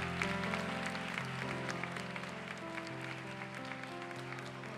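A church youth worship congregation claps together after a prayer, a steady dense wash of applause with cheering voices, while music keeps playing underneath throughout.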